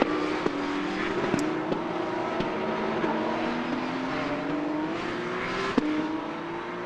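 Porsche Carrera Cup race cars on the Magny-Cours circuit howl past at a moderate distance in a continuous engine drone, with shifting pitch, gear-change blips and a few sharp pops.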